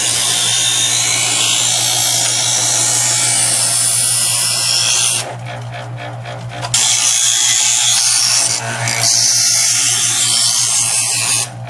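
A Chef'sChoice 120 electric knife sharpener whines steadily as a knife is drawn across its abrasive diamond-dust wheel, a loud grinding buzz over a constant motor hum, briefly dipping when the blade lifts out.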